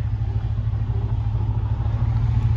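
A car's engine runs steadily while backing and manoeuvring a boat trailer at a Yamaha dealer, a low, loud rumble with slight revving swells and no talk over it.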